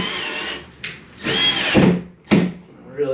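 A drill with the clutch taken off sinks screws firmly into a homemade TV wall mount, with a series of strong, nearby whining bursts that rise and cut off, broken by brief gaps.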